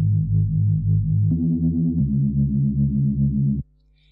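A jungle Reese bass synth plays dry, with no effects: a thick, droning low tone with a steady wobble that shifts pitch twice, loud and close, then cuts off abruptly.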